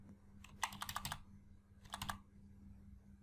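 Typing on a computer keyboard while entering values into an Excel spreadsheet: two quick, close bursts of keystrokes, the first longer and the second short, in a quiet room with no talking.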